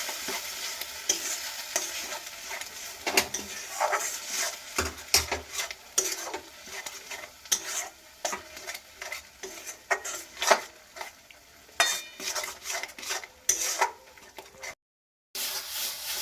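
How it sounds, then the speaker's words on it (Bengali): A spatula stirs bharta mash in a wok as the water cooks off, producing repeated close scraping and clinking strokes over a faint sizzle, with one brief pause near the end. "সব কিছু দিয়ে নিয়ে খুব ভালো করে নাড়াচাড়া করব যতক্ষণ না জলটা শুকায়।"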